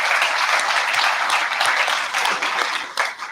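An audience at a community event in Rocky Mountain House, Alberta, applauding volunteers with steady, dense clapping that fades slightly toward the end.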